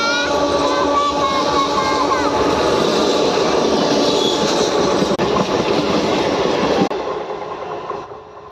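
A train passes along a track through a forest with a loud continuous rumble and wheel clatter, then cuts out sharply and fades near the end, with voices faintly underneath.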